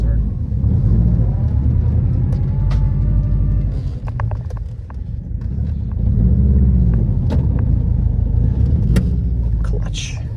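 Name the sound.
Subaru WRX with manual transmission driving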